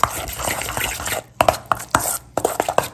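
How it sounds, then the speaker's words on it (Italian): A spoon scrapes and stirs a spice mixture for pumpkin tortelli filling in a bowl, with repeated soft scraping strokes and a few sharper clinks near the end. "quando abbiamo unito le spezie, andiamo, vedete, a mescolare"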